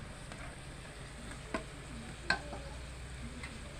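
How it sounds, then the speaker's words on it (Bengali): Dumur patar bora, fig leaf fritters, fry quietly in hot oil with a soft, steady sizzle, broken by a couple of faint clicks and taps from utensils nearby. "এরকমভাবে সব কয়টা আমি ভাজিয়ে নেব।"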